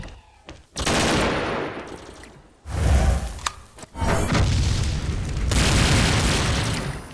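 Grenade blasts and gunfire in a first-person shooter game, a run of loud booming explosions and rattling bursts in quick succession, close and harsh with no talking.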